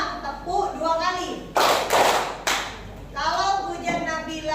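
A standing group claps in unison during a classroom ice-breaking game, sharp sharp collective claps in the middle between stretches of a teacher calling out cues.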